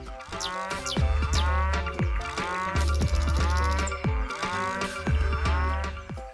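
Mooing cattle sound in repeated, drawn-out calls, loud and close, overlapping one another in a steady rhythm with no talking.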